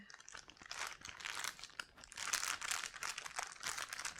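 Plastic piping bags, a green one and a pink one, crinkle and rustle steadily up close as they are slipped into a larger bag and folded, with no talking.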